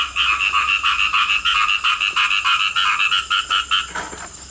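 Rhythmic, pulsing frog croaks at night in Borneo, repeating rapidly and loudly in a close chorus, trailing off near the end.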